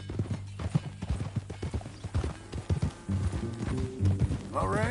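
Rhythmic clip-clop of horse hooves trotting close by in Red Dead Redemption 2, steady and irregular in spacing, with a horse's whinny near the end and voices speaking over it.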